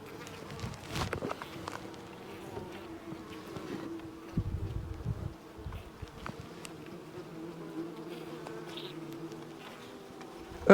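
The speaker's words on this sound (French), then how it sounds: "C'est pour ça qu'il y a un paquet de guêpes là." Wasps buzzing around opened beehive frames of a queen-rearing nucleus colony that has been attacked, a close, irregular drone of wings with brief louder passes and a few soft handling sounds.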